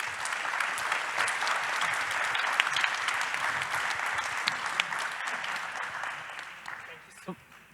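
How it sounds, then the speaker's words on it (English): Sustained applause from an audience at an international food policy awards ceremony in Rio de Janeiro, a dense even clatter of many hands filling the hall, steady throughout before easing slightly near the end. "So a big round of applause"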